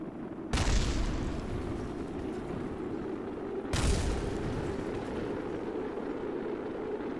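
Spacecraft parts blowing apart during re-entry in the video game Stone to Space: two loud, deep booms a few seconds apart, each bursting suddenly and trailing into a long rumbling roar.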